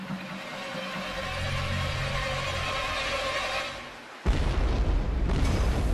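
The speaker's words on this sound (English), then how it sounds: "The bomb's explosion splits the side of one of the tanks and the LNG pours out" A bomb explodes beside a liquefied natural gas tanker, a sudden loud boom breaking in after a sustained low rumble and brief dip, followed by roaring noise.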